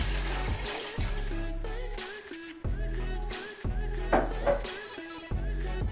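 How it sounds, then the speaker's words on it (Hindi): About one litre of water pours steadily into a pot for chicken soup, a continuous splashing stream under rhythmic background music. "1 लीटर पानी मैंने पहले ही पतीली में डाल दिया था और 1 लीटर अब हम और शामिल कर देंगे इसमें"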